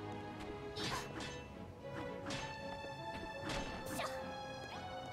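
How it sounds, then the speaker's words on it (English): Repeated smashing hits as blocks are broken while jumping in Dragon Quest Builders 2, a series of sharp cracks and thwacks at an irregular pace over a steady backdrop of game music. "I just have to keep smashing while I jump"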